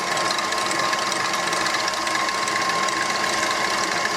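An electric hand mixer whips cream for homemade butter, a steady loud motor whir with a constant high whine that runs unbroken throughout, with no talking.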